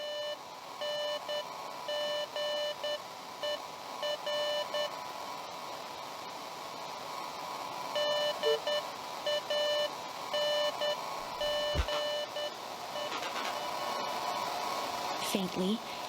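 Static hisses from a walkie-talkie in the video game Beacon Pines, a faint steady crackle overlaid with repeated electronic beeping tones that stop and start, with a brief louder burst near the end.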